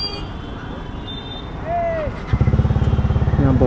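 A Bajaj Dominar 400 motorcycle is ridden through Delhi streets. Its engine rumbles low, then settles into a strong, steady throbbing pulse, with someone talking over it.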